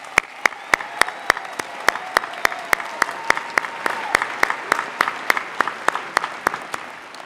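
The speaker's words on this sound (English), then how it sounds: "Please join me in a round of applause for our outstanding student athletes" Applause for student athletes at the Oregon Tech Klamath Falls commencement, sharp evenly spaced claps ringing out over a soft crowd wash, steady and fairly faint across the whole stretch.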